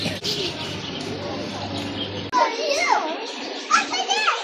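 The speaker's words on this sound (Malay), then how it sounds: "Oh, burung." Birds chirp and call at Port Dickson Mini Zoo, their sharp, twittering notes rising in the second half over a noisy crowd with children playing and voices nearby.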